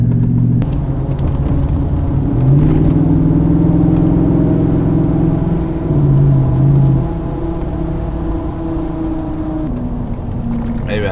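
Lifted Ford F150 with a 5.0 V8 and deleted resonator, its engine droning steadily and loudly with the pitch swelling and easing through a few revs, held close throughout.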